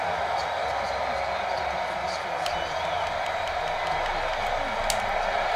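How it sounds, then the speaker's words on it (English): A stadium crowd in a college football video game, Oregon State against UCLA, keeps up a steady, building roar of cheering and applause beneath the play. "This crowd's starting to get really loud."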